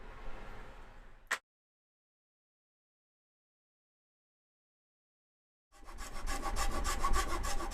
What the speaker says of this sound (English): Then I took my jab saw and cut grooves so it would chisel out much easier